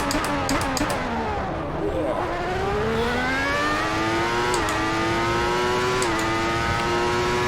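A 1994 Formula 1 car engine at the German Grand Prix in the Assetto Corsa racing game screams loud and close, its pitch dropping then climbing steadily through the gears as other cars race nearby.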